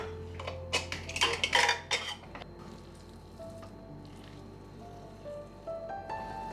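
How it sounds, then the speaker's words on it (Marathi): A pressure cooker lid is opened in a home kitchen after several whistles, giving a quick burst of metallic clanks and rattles. A quieter stretch of faint clinks and low hum follows. "मी आता कुकर ओपन करून बघते"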